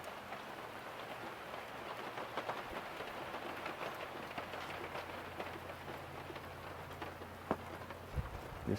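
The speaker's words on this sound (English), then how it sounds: "Raining like crazy." Heavy rain pours steadily on a wet woodland sawmill site, a dense continuous hiss with occasional louder drops and taps, plus a low hum underneath.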